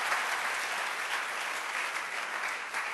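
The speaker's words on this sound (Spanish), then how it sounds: "Denle un aplauso al Rey bendito." Church audience applauding steadily, a dense wash of many hands clapping throughout, fairly close and even, with no talking over it.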